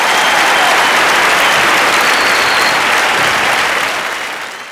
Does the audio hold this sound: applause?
yes